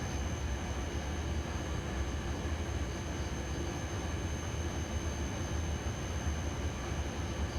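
A train rumbles past in the SimRail railway simulator game, a steady low roar with continuous rail noise and no talking, holding an even level throughout.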